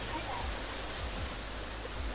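Steady rushing waterfall in the Roblox game Build A Boat, a continuous broadband roar with no breaks, even and fairly loud throughout.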